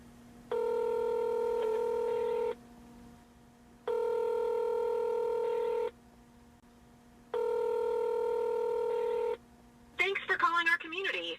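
Phone calling a leasing office: three long, steady ringback tones separated by even pauses, fairly quiet, followed by a brief burst of voice at the end.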